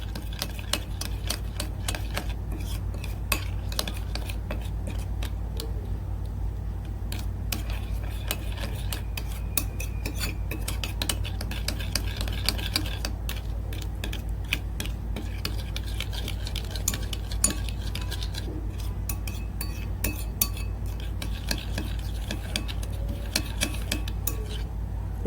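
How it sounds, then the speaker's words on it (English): An aloe vera and vitamin C face mask is stirred in a bowl, a utensil clicking and scraping against the sides in a quick, steady rhythm of close, light taps that goes on without pause. "we go ahead to mix up all the ingredients into a homogeneous mixture"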